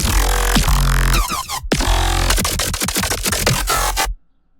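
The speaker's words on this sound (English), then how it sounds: "so the first thing we got is the actual drop itself" A soloed dubstep drop in Ableton: loud, dense bass-heavy synth wobbles and stuttering hits with one abrupt brief cut midway, ending in sudden silence after about four seconds, with no talk.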